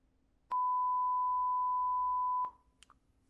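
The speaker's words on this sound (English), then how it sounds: "It's going to play the beep sound in my desktop." A desktop computer running a Python Tkinter alarm clock program plays a single steady electronic beep lasting about two seconds, clean and sustained against near silence, followed by a couple of faint clicks.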